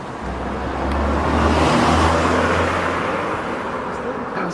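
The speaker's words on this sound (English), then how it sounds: "There's a car." A car passes nearby on a road, its low engine rumble and tire roar swelling toward the middle and then easing off, loud and steady over the background.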